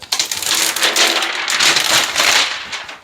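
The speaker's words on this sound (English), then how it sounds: "And we just peel our sticker top off." Sticker backing peeled off a peel-and-stick tile, a continuous crackling, tearing rasp lasting about three seconds, close and fairly loud with no voices.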